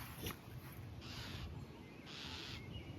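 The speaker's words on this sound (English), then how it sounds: "That bird right there does not like me." A bird near its nest in a tree hole gives several loud, harsh calls in bursts, crow-like in tone, over steady outdoor background noise.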